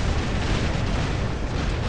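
Robot weapon fire from the War Robots video game, shots striking enemy robots, as a loud, continuous wall of rumbling, overlapping blasts and booms that never lets up.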